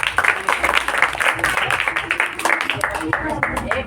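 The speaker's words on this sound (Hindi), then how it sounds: "अरे वाह, ताली बजा दो बच्चों।" Children clap at a school picnic magic show outdoors, a brisk scattered round of applause mixed with voices and chatter over the clip.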